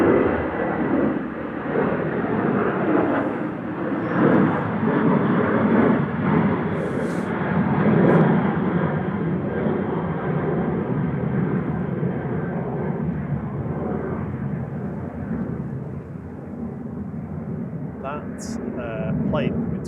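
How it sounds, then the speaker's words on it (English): An Air India Boeing 777 airliner approaching Manchester Airport, a loud, steady broadband engine roar sustained throughout, with people talking over it. "That plane coming towards us there is an Air India 777."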